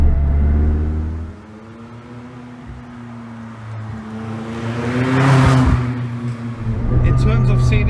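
A McLaren 600LT's turbocharged engine hums and drones while driving, with its pitch rising and falling as the car accelerates. The tone swells to a louder rush midway and stays moderate under the cabin noise.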